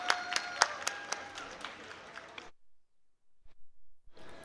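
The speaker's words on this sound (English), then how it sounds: "So maybe we can have a round of applause for her?" An audience at the Swordplay 2018 longsword tournament claps for a female fighter. The applause is fairly faint and steady with sharper individual claps, then stops abruptly about halfway through, leaving near silence and a few soft bumps.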